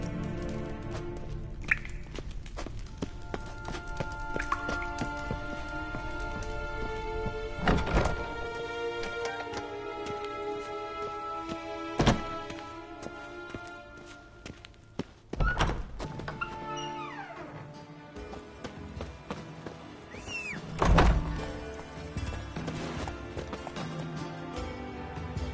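Roach the horse's hooves clop in The Witcher 3, rhythmic hoof thuds with a few heavier hits and a whinny amid game music and effects, fairly close.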